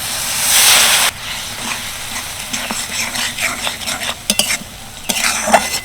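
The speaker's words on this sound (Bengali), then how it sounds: "মশলাটা যাতে ভালোভাবে কষা যায় তার জন্য আমি অল্প জল দিয়ে দিচ্ছি" Spices sizzle hard in a pan after a splash of water for a cabbage dish. A loud hissing burst comes first, then a spoon scrapes and stirs repeatedly over softer frying.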